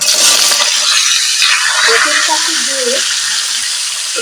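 Panch phoron spices sizzle and crackle loudly in hot oil in a wok while tamarind pickle is prepared, with stirring scrapes under a steady frying hiss that eases slightly toward the end.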